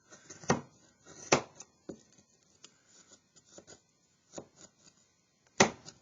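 A Mora knife makes slicing cuts into a wooden stick while a clothespin clip is being carved. About a dozen crisp, close, irregularly spaced cuts and scrapes sound against near silence, with the strongest strikes at the start and end.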